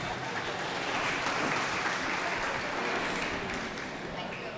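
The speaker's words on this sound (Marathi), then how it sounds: "टाळ्या वाजवा यार." An audience at a youth drama and dance event bursts into sustained, dense applause, loud and even from start to finish, a crowd clapping together without pause.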